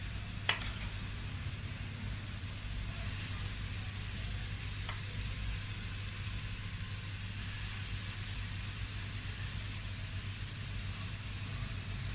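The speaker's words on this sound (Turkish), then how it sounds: "iyice kızarsın" Spoonfuls of flour batter fry in hot oil, giving a steady low sizzle and bubbling that holds level throughout, with a couple of faint clicks and no talk.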